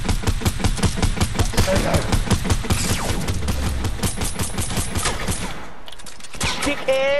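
Rapid bursts of heavy hand cannon gunfire in Fortnite, repeated shots in a dense rhythmic volley, loud and close, tapering off near the end.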